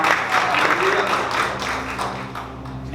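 Church congregation clapping during a worship service, a moderate rattle of applause that tapers off slightly toward the end, with a low sustained organ or keyboard tone beneath.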